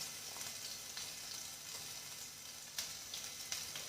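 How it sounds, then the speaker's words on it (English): Sliced small onion sizzling in hot oil in a pan, a steady dense frying hiss with occasional brief louder pops and crackles, close and continuous with no talking. "So the oil has been heated. I'm going to add the sliced onion that I had."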